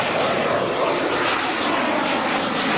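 A propeller airplane carrying a wing walker at the 2004 AirPower Over Hampton Roads airshow drones loudly and steadily, a close, continuous engine roar with no speech.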